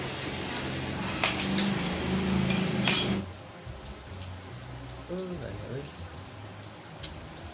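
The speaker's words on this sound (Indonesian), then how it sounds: "Hujan ya?" Rain falls steadily in an outdoor setting, louder at first with a wash of drops and clinking on hard surfaces, then thinning to a softer patter with faint voices nearby.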